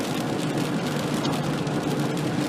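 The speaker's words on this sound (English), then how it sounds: "This rain makes it quite difficult." Rain hitting a car during a night drive north toward Crescent City, California: a dense, steady hiss of drops and road noise filling the cabin, even and unbroken, with no voices.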